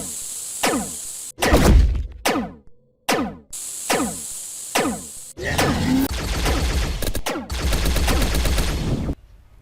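Guns fire in the video game Rogue AI, loud close single shots and rapid automatic bursts separated by brief silences.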